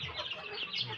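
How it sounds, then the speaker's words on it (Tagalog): Native chickens cluck and murmur at a farm hut, a steady mix of overlapping soft clucks from several birds at close range, with no talking. "Tingnan natin yung mga alaga niyang manok"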